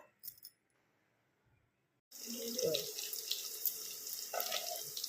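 Water runs from a tap into a mixer jar for grinding ginger, turmeric and garlic, a steady close splashing stream starting after a couple of seconds of near silence with a faint clink.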